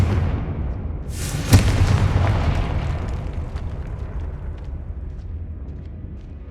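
A Confringo fire-blast spell detonates in the Hogwarts Legacy video game, a single loud explosive boom with a sharp crack that rolls into a long, dense rumbling tail fading slowly over several seconds.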